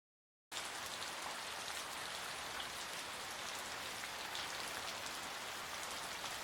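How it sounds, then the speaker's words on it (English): Steady, dense rain pours down continuously, a heavy broadband hiss of drops hitting surfaces close by, with no voices. "Raining cats and dogs out here."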